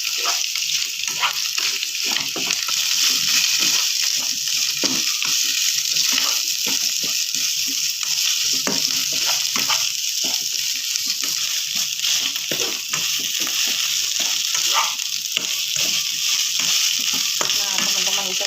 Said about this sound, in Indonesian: Lalu kita tumis-tumis seperti ini teman-teman sampai mengering ya